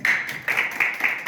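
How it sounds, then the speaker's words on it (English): An audience at a business masterclass stands and claps along, producing a brisk, fairly loud run of hand claps that surges in several waves over a short stretch. "Can you all stand and clap hands?"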